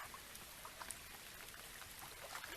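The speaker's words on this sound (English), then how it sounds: "And it is raining here." Rain falls on a lake in the VR game Real VR Fishing as a dense, soft patter of drops with light splashes, continuous and even, without voices.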